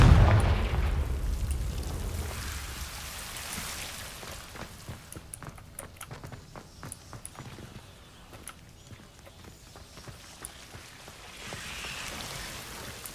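A Confringo blasting spell goes off in Hogwarts Legacy during a side quest in a hidden herb corridor. It opens with a loud, low burst, then fades into a quieter stretch of sparse ticking and clattering, with a small swell near the end.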